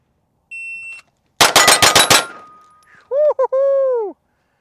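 A rapid string of about six sharp, loud shots from an EAA Girsan Witness 2311 pistol during a shooting drill, following a shot-timer beep, with ringing tones after the string.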